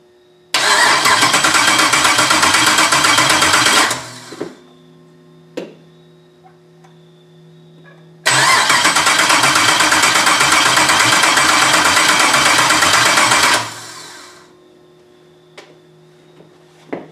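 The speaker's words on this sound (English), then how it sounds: "Picked up the MSD. Hit the starter." A Porsche 944 fitted with a 6.0 V8 cranks on the starter in two long, loud bursts of rhythmic chugging, each several seconds long, separated by quiet pauses with faint clicks, without catching.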